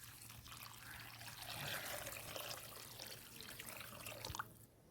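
Water pours into a soup pot holding chicken bones and ground spice paste, a close, continuous splashing trickle lasting about four seconds before it stops abruptly.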